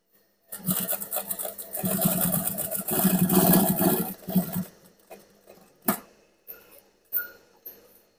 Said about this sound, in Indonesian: Kita jahit maju mundur.